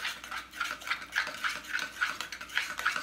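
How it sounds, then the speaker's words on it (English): A spoon stirring a chocolate peanut butter keto fat bomb mixture in a bowl, producing steady rhythmic scraping strokes about three per second, close and moderately loud. "we're going to take our fat bombs out and I'm going to stir this up"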